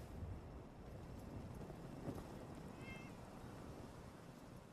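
A cat in the video game Fallout 4 gives a single faint, short meow, barely rising above a quiet, hissing background.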